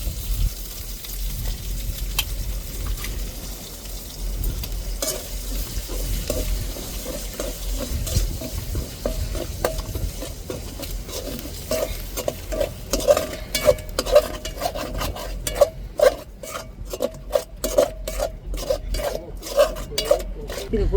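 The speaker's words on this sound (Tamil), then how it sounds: "இப்போ 2 முட்டையை ஊற்றி வதக்கிக்கிடுவோம்." Two eggs poured into a pan and sautéed with onion, green chili, potato, coriander leaves and ginger-garlic: a continuous soft sizzle with scraping stirs that turn into quick, rhythmic ladle strokes against the pan, close, with no talk.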